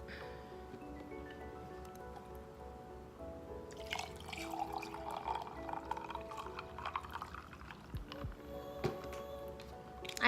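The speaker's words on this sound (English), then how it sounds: "Let me pour some in my cup." Lemonade is poured into a Hello Kitty cup: a quiet trickling, splashing stream that starts faint and grows fuller and louder partway through, then continues in uneven gurgles, with no talking.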